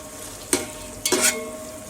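Chopped onion fries in a pan for pulao under a soft, steady sizzle, broken by two brisk bursts of a utensil scraping and stirring through it.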